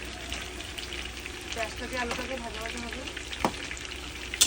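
Onions frying in oil together with potatoes for a fish curry, a close crackling sizzle with light stirring and a brief clatter, steady throughout.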